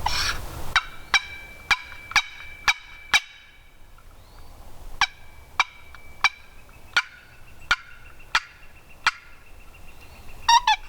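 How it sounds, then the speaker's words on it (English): Wild turkeys gobble in Michigan pine woods, a series of about fifteen sharp, evenly spaced clucks and gobbles ringing out clearly at moderate distance against a quiet background, with a rapid burst near the end. "And then you call, and lo and behold. Yeah, guess what we hear? Turkeys."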